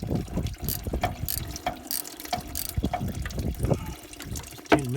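A 10mm socket ratchet clicks in quick repeated bursts while working a fastener on a Toyota Land Cruiser VDJ79 during a coolant change, with clattering tool handling and faint liquid sounds close by.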